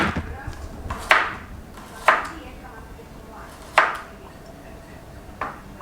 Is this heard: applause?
no